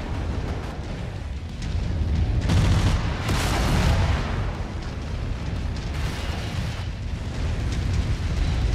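Mech weapons fire and explosions in the game MechWarrior 5, dense continuous rumbling blasts with several louder bursts swelling over a constant roar, no speech.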